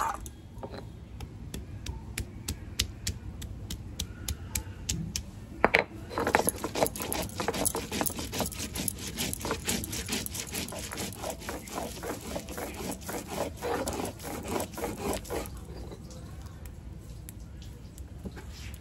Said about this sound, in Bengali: আদা জিরে এখন বেটে নেবো।